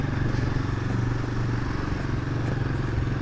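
A Royal Enfield Himalayan 450 motorcycle fitted with a new crash guard and knuckle guards thumps along at a steady pace, its engine pulsing loud and close throughout.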